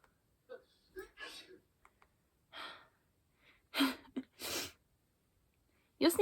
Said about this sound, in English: Your sneezes are really cute.